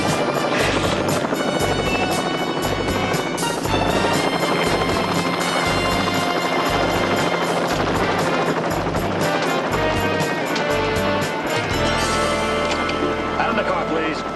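Rhythmic thudding of helicopter rotor blades, loud and close, pulsing steadily while voices talk over the engine's whine, as people are ordered out of a car and into the helicopter.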